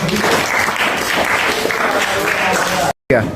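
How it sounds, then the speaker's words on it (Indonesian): An audience at an academic supervision session applauds, a dense steady roar of clapping mixed with crowd voices, ending abruptly in a brief silence before a short burst of sound resumes. "Nah, tepuk tangan dong."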